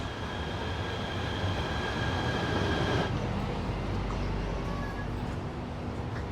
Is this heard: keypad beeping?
no